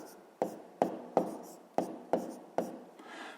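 Handwriting the answer 4.74 on paper, heard as about six short, sharp pen strokes evenly spaced, close and fairly quiet.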